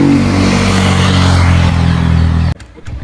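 A Royal Enfield Classic 350 motorcycle engine runs loud and steady with a deep thumping idle, then cuts off sharply near the end, leaving a quieter rumble.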